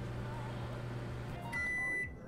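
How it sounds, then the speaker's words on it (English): A microwave oven in Job Simulator hums steadily with its door closed, then a bright electronic beep tone sounds near the end; the scene is fairly quiet. "Close the door and let me get a shot of the microwave running."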